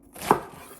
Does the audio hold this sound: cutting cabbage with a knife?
yes